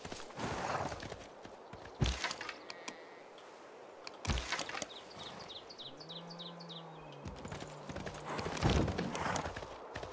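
Horse units in the strategy game Civilization VI clop their hooves in short bursts of clip-clop steps, with faint chirps and a brief low tonal game sound in between, all fairly quiet.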